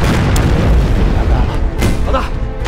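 Artillery cannons fire in a war drama battle scene, producing loud, deep booms that roll together into a continuous rumbling barrage with sharp blasts on top.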